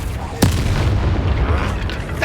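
An explosive Confringo spell blast in the Hogwarts Legacy video game: one sharp boom near the start, then a rumbling game soundscape that stays loud throughout.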